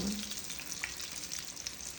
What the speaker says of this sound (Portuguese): Tô fritando no fogo alto